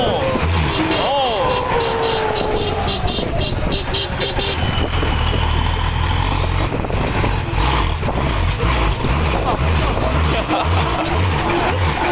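A powerful truck revs hard while travelling in a convoy of trucks, producing a loud, steady engine roar with a brief rising rev early on, close by, and excited voices speaking over it throughout.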